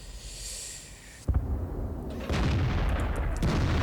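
A tank gun fires in the video game World of Tanks, a single heavy boom from a SU-14-2 followed by a rumbling roar and a second blast of noise, loud and close with no talking.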